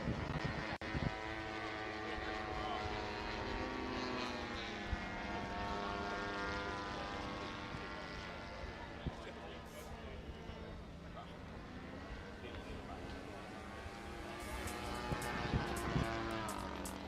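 A modified propeller aircraft flies past at an air show, its steady droning engine filling the whole stretch at moderate distance and swelling slightly toward the end, with a loud, continuous hum of the engine.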